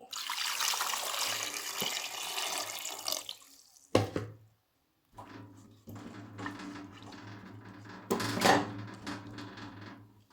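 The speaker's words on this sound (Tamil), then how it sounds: "இது மூழ்கிற அளவுக்கு தண்ணி" Water pours and splashes into a metal pressure cooker in a few bursts, with short pauses and dripping between pours, filled enough to cover cassava for boiling.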